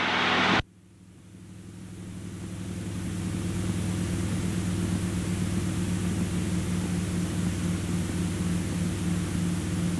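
Light airplane in flight during maneuvers: a steady, droning engine hum with broad wind noise fills the cabin continuously after a brief louder burst at the start.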